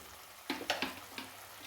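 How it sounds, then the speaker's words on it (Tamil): Chicken gravy masala with chilli powder, turmeric and coriander powder bubbles and fries in oil in a pan, giving a few soft sizzling pops and splutters over a quiet hiss. "பாருங்கள், நல்லா கொதித்து எண்ணெய் பிரிஞ்சு வருது"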